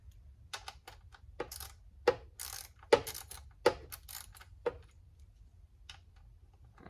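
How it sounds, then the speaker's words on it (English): Sharp metallic clicks from a ratchet wrench working a spark plug loose on a 2017 BMW 340ix, with a line in the way; irregular bursts of a few quick ticks, close and fairly loud against a quiet background with no talking. "I need to use the wrench more."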